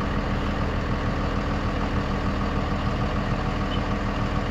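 A diesel engine running on a mix of gasoline and ether, a steady, dense low rumble that holds constant throughout, loud and close with no voices.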